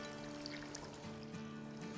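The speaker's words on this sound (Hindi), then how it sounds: "इसमें हम पानी डालेंगे" Water is poured into a cooking pan while preparing a chicken and vegetable dish, a faint, soft trickle over a steady background hum, about two seconds long.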